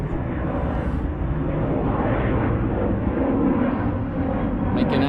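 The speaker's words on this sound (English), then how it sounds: "Look at this plane." A low-flying plane roars overhead at a shoreline fishing spot on the Bristol Channel in South Wales, a loud, steady, broadband drone filling the whole clip.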